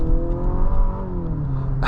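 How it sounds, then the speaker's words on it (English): A 2025 Nissan Murano Platinum with a VC turbo engine pulls under load from inside the cabin, giving a raspy, droning engine note that holds steady for a couple of seconds before a brief rush at the end. "it makes a raspy noise from this VC turbo engine over here"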